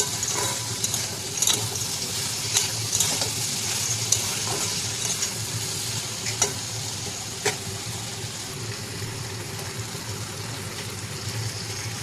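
Ash gourd and potato with spices being stirred in a pan, a continuous low sizzle with occasional light spatula scrapes and taps at a close, even level.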